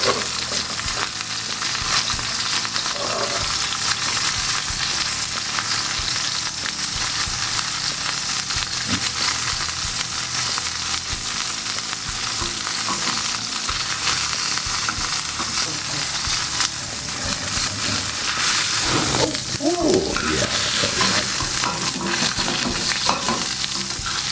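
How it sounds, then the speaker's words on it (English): Salmon sears in a hot pan with a steady, loud sizzle that runs the whole time, broken by a few brief utensil clinks and stirring scrapes near the end; no one talks. "we're going to let that sear on this side for at least 30 seconds"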